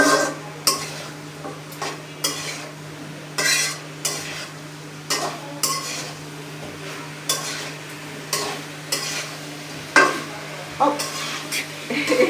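A spoon scrapes and stirs ground cumin and garam masala frying in a pan, with steady rhythmic strokes about once a second over a constant low hum and faint sizzle.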